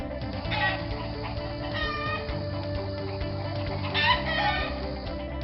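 A chicken clucking sound effect, busy and steady, with repeated clucks and squawks over a dense bed of layered tones throughout, with no speech.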